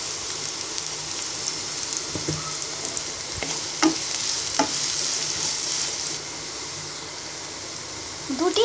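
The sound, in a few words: onions and five-spice frying in soybean oil in a wok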